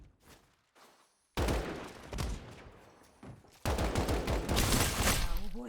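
AK rifle fire in a video game: a few faint shots, then two loud rapid bursts of automatic gunfire, the second sustained to the end, with no talk.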